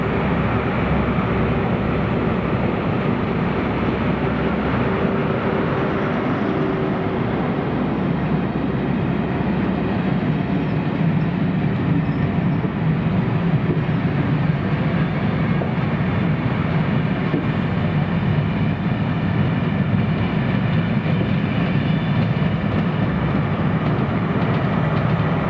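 A train worked by ex-EMR liveried Class 43 power car 43274 and ex-CrossCountry 43357 passes in Scotland, a loud, sustained rumbling roar of diesel engines and wheels that stays close and steady throughout.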